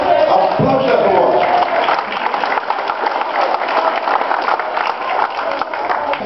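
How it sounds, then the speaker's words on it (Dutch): A crowd applauds at the opening of the Veeneslagen tunnel, with dense, continuous clapping running the whole stretch and voices talking over it. "Applaus daarvoor."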